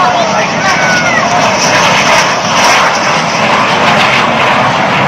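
A Rafale fighter jet roars steadily and loudly overhead, a continuous engine drone that barely rises and falls across the whole stretch.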